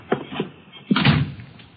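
A door tried and pushed open as a radio drama sound effect, with a short knock-like rattle of the handle followed by a heavier thump and creak, close and clear with no talk.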